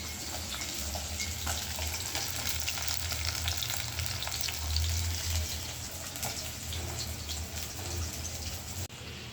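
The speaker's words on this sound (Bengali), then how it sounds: "এখন এই যে ফুলকপি, আলু আর সিম ভেজে নিতেছি" Cauliflower, potatoes and flat beans frying in oil, a steady loud sizzle running throughout with light stirring scrapes on top, no talking.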